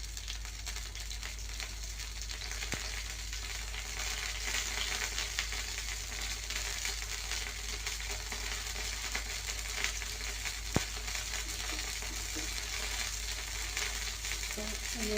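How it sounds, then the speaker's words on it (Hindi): Ghee sizzles in a hot pan with a steady, close frying hiss throughout, broken by a couple of faint clicks and no talking. "तो ये मैंने घी डाल दिया है"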